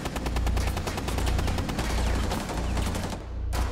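Sustained automatic gunfire in a Rainbow Six Siege match, loud, rapid bursts of shots repeating steadily for several seconds, with a brief drop near the end before firing resumes.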